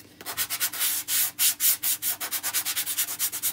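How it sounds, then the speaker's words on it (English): Sandpaper rubs over a painted surface to distress it, quick rhythmic back-and-forth strokes, loud and close with no talking. "And I'm just going to give it a good sanding."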